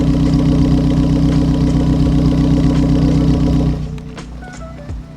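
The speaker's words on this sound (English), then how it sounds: "This is what the exhaust tone is now then." A budget hot hatch built as a track car idles with a steady, throbbing exhaust burble close up, loud and even, before the engine cuts off and the sound drops to quiet clicks and faint background noise.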